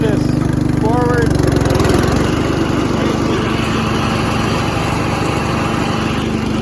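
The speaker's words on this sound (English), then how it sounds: "I'll turn the mower on here in a second" A riding lawn mower engine runs close by, a loud steady buzzing drone; a voice speaks briefly over it at the start.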